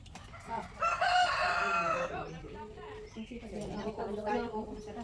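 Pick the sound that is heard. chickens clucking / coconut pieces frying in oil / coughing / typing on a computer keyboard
chickens clucking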